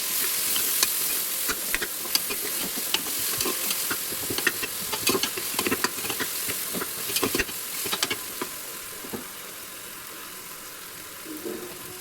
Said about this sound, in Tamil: தக்காளி போட்டு நல்லா வதக்கிடுங்க.